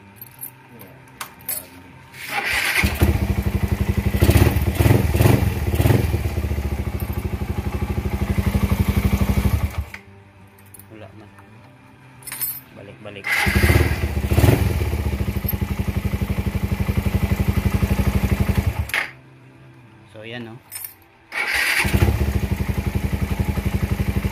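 A Suzuki Raider 150 motorcycle engine runs with a metallic rattling clatter from the flywheel over it, cutting off briefly a few times before starting up again.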